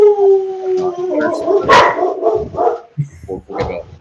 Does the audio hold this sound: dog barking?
yes